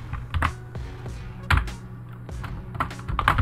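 Text being typed on a computer keyboard during graphic design work, a close series of soft key taps and clacks in irregular bursts over a quiet background hum.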